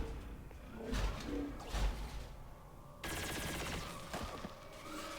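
A burst of gunfire from a shot taken in the XCOM 2 tactical game, with sharp cracks and whooshes around one and two seconds, then a louder dense rattling volley from three seconds onward.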